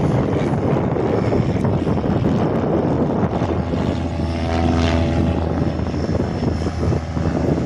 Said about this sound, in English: And a Cessna 208. Taxiing out for takeoff.